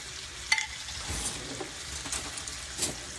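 Slices of salted butter melt in a frying pan before steak is cooked, giving a quiet, steady sizzle with a few soft clinks and stirring scrapes, and no one talking.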